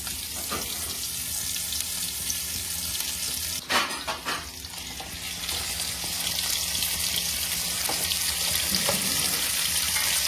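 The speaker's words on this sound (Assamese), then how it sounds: "মই এটা ডাঙৰ দুটা পিঁয়াজ কাটি থৈছিলোঁ মিহি মিহিকৈ এইকেইটা তেলত দি দিম" Two finely chopped large onions drop into hot oil and fry with a loud, continuous close-up sizzle, a brief clatter partway through, then steady crackling hiss without speech.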